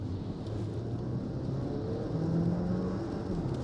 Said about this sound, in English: pulling away from a junction, this is obviously the four-wheel drive version, so there's plenty of grip